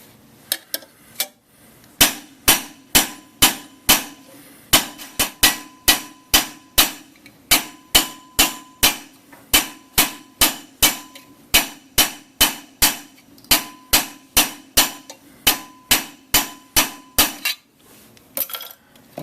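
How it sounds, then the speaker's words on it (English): A hammer raises a copper bowl over a metal stake, striking in a steady series of about thirty sharp, ringing metallic blows at close range, with no talking. "I'm going to be hammering right about here from now on."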